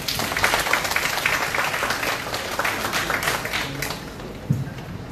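Audience at a young entrepreneurship bootcamp applauding a student group, a dense burst of clapping that holds steady for several seconds, then thins and fades out.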